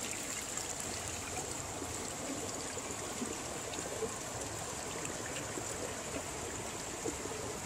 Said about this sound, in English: There we go, a little water underneath there.